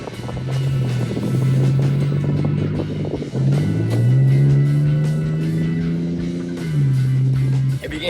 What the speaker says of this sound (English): If you can hear that droning, it's because I bought MBRP exhaust.